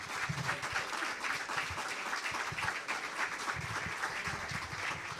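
Audience applauding after a lecture in a hall, a moderately distant crowd clapping steadily with a soft, even texture throughout.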